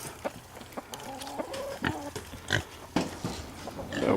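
Several hens cluck and murmur nearby in short, irregular bursts, with scattered rustling and scratching around them.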